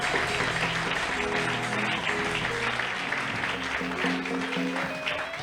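A church congregation claps together, a loud, dense and sustained round of applause carrying through the full stretch, with instruments or voices faintly audible underneath.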